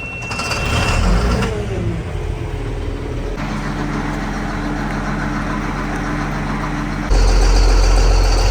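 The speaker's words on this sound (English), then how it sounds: "I'm gonna go park the tractor out by the other one." A farm tractor engine runs steadily while being driven off to be parked, a continuous low rumble with a brief rise in revs near the start and a louder, heavier surge toward the end.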